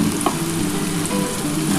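Ground spice paste hits a hot pan for radish paturi and sizzles in a loud, steady hiss that holds for the whole stretch, with a few small crackles and no voices.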